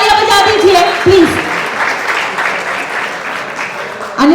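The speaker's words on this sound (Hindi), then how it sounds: "जोरदार तालियां बजा दीजिए" Audience applauding loudly at a Realme 14T phone launch event, steady dense clapping with voices mixed in, fading slightly before a louder burst at the end.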